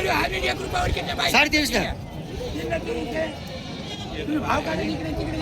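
Goats bleat repeatedly in short wavering calls at a crowded village goat market in Jawala, Aundha Nagnath taluka, Hingoli district, with steady crowd babble and nearby voices talking throughout.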